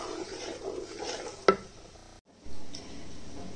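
A spoon stirs thickening playdough mixture in a pan over gentle heat with a steady soft scraping and faint sizzle, broken by one sharp tap against the pan, alone without talk.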